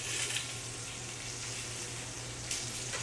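Chicken pieces sizzle steadily in a hot pan on medium-high heat for soup, a continuous crackling hiss with small spits and pops, close and unbroken.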